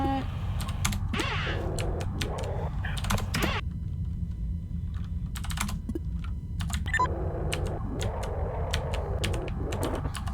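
Short bursts of computer keyboard typing, clicking in quick irregular clusters at close range, separated by pauses over a quiet game background hum.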